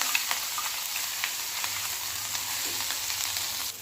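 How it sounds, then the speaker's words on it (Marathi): Cumin and mustard seeds crackle and sizzle in hot oil, a dense, steady spray of small pops throughout, close and fairly quiet, with no talking. "तेल गरम झालेलं आहे जिरे मोहरी टाकून घेऊया जिरे मोहरी छान तडतडायला लागली की हे वाटण टाकायचं"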